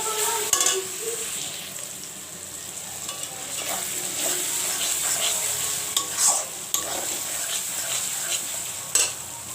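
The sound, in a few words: garlic frying in pan for chicken biryani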